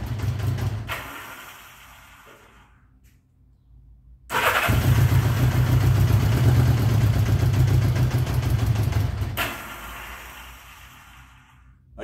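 A 1979 Honda GL1000 Goldwing motorcycle engine runs rough with no choke, idling unevenly nearby before a loud, sustained burst of engine roar mid-clip that settles back to a lumpy idle, with no talking.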